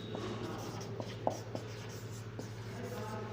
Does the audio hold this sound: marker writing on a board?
yes